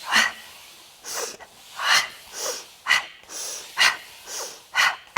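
Sharp, breathy exhales during a sliding plank core workout, about eight forceful puffs in a steady rhythm, close and fairly loud with no talking between them.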